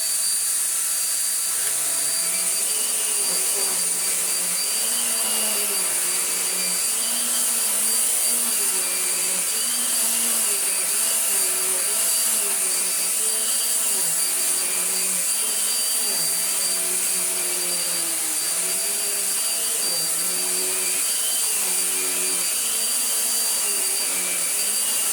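Morphy Richards Perform-Air 73381 upright bagless vacuum cleaner sucking sawdust from a very deep-pile rug, a loud steady whine with a rising and falling motor pitch that runs without pause throughout, with no voices.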